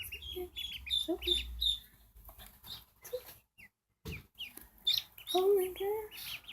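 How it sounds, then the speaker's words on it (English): Day-old ducklings peep in high, repeated chirps close by, mixed with a person talking and bits of handling noise. "Guys, I got ducklings."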